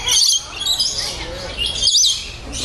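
Lorikeets chirp and squawk up close in shrill bursts over a busy, noisy background at Lorikeet Landing, San Diego Wild Animal Park.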